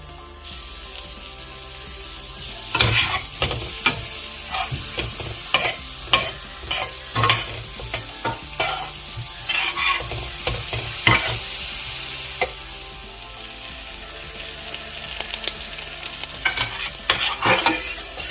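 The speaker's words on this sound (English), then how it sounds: "let's get these onions and these shallots into the pan with a little bit of flour" Onions and shallots fry with a little flour in a pan. A constant close sizzle runs under repeated scraping and stirring strokes from a utensil against the pan, irregular and fairly loud, with no voices.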